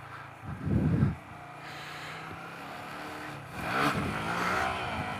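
A Honda Grom motorcycle with a two-stroke engine revs in two throttle bursts, a short loud one near the start and a longer rising one later, over a steady idling engine.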